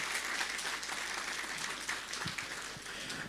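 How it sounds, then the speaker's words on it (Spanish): A congregation applauds a church music group at a Sunday service, sustained clapping at moderate distance with a few sharper individual claps near the end. "vamos a dar fuertes aplausos"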